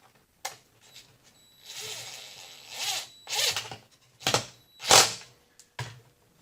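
Several short bursts of a power drill whirring, uneven and close, driving a screw into a guitar body, separated by brief pauses and small clicks and scrapes.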